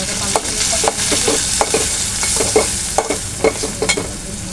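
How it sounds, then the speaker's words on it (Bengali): Ground spices (chili powder, turmeric, coriander powder and salt) stir-fried in a pan for a Malabar spinach seed curry, with a steady loud sizzle and regular scraping strokes of a spoon, no voices. "মশলাটা ভালো করে কষিয়ে নেব"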